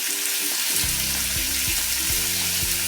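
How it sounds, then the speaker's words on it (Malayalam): Onion and capsicum sauté in a pan over a high flame for chilli chicken, a steady loud sizzle with repeated scraping strokes of stirring, no voices. "ഫ്ലെയിം കൂട്ടി വെച്ച് വേണം സവോളയും ക്യാപ്സിക്കവും കൂടെ വാട്ടിയെടുക്കാനായിട്ട്"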